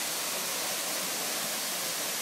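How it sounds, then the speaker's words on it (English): Steady, dense broadband rush of the Montezuma waterfall in Costa Rica, a continuous roar with no breaks or voices, heard fairly close. "And here's the waterfall."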